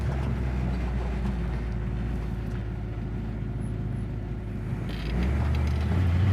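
A Hemi engine fitted in a Mustang idles while warming up, a steady deep rumble with a mechanical whir, growing slightly heavier near the end, and no one talking.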